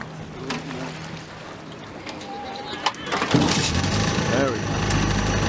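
A hydroplane boat engine idles, then swells into a louder, deeper roar as it nears, with splashing water and a voice talking underneath.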